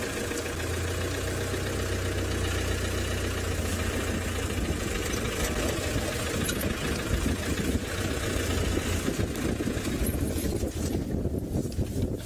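A safari vehicle's engine idles and turns over steadily at close range on a hyena sighting at sunrise, a continuous low rumble with slight knocking that runs through nearly the whole stretch without talk.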